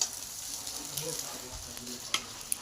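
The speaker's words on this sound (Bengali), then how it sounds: "ডিমটা বেশি ভাজার দরকার নেই, হালকা ভেজে নিলেই হবে।" An egg frying lightly in a pan gives a steady, soft sizzle with faint crackle, and a couple of sharp clicks of the utensil near the end.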